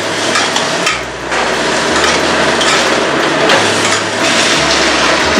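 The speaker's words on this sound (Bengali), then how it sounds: "এই দিয়ে আলুগুলো একটু ভেজে তুলে নেব" Potatoes frying in oil with a pinch of turmeric and salt in a pan, a steady broadband sizzle running continuously throughout, close and fairly loud, with low hum beneath and no talk.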